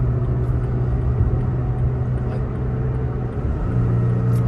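A Toyota Tacoma TRD 4x4 pickup pulls uphill under throttle, a steady low engine drone and road rumble heard from inside the cab, holding constant for several seconds with no talking.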